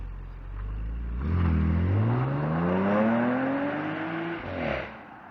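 An Audi S5 Cabriolet accelerates away with a rising exhaust note that climbs steadily through the revs and then fades slightly, loud and close, with no one talking over it.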